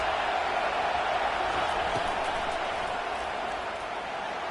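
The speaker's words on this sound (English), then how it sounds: "This crowd trying to make life miserable for this offense." A college football video game crowd at a Mississippi State versus Penn State matchup gives off a steady, dense stadium roar that holds for the whole stretch with no clear breaks.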